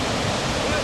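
A flash flood torrent sweeping a car away after a cloudburst in the Himalayan hills, a dense, steady roar of rushing water, loud and close with no break.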